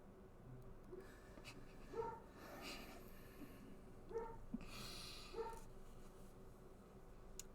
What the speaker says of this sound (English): we can't talk while the dog's barking